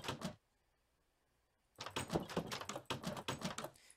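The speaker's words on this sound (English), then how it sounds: "Can you try to open that door?" A door clatters in a Minecraft game world with a short burst, then silence, then a run of rapid clicking and knocking impacts up close.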